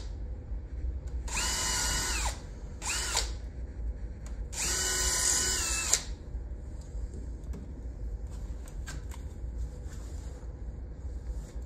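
A power drill whirs into 100-year-old wood in three bursts, the first and last about a second long with a short one between, over a steady low background rumble.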